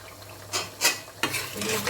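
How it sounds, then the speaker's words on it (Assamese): Vinegar being stirred into a pumpkin pickle, heard as a few short, close scraping and swishing strokes of a spoon in the mixture, spaced apart with quiet gaps between them. "এবাৰ ধুনীয়াকৈ লৰাই দিম"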